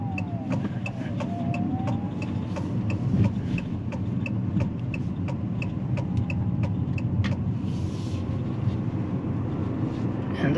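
An Abarth 500e electric car drives along with a steady road and motor hum, faint whine tones rising and falling, and a series of light ticking clicks, all close and even.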